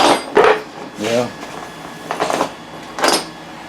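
Metal drill bits clatter onto a hard floor in several separate drops, each a bright, close jangle of tumbling steel pieces with short ringing tails and pauses between.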